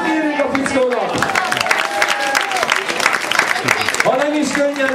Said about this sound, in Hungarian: Tapsot írjuk a fickónak!